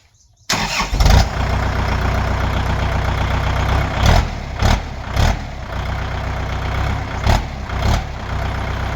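A Kubota L5018 tractor with a cut, modified exhaust pipe starts after a brief silence, then settles into a loud, close, rough idle with several throttle blips that swell and fall.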